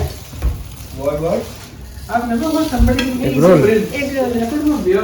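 A paratha fries in a pan at a Kolkata kitchen, a steady sizzle with stirring noises running under a person talking throughout.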